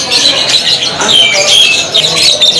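Canaries squawk and chirp at a bird-selling kiosk, bright calls repeating close by over a busy background for a few seconds, with someone talking nearby.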